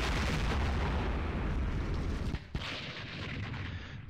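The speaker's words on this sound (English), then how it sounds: "Boom, here comes those rockets." Rocket artillery fire in a war strategy video game comes as a dense, loud roar of blasts that suddenly breaks off, followed by a thinner rumbling tail.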